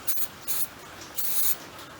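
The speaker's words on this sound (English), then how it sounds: "spray them off with a little brake parts cleaner." Brake parts cleaner sprayed from an aerosol can onto motorcycle ignition parts for a Kawasaki KS125, four short hissing bursts in a row under a steady background of rain.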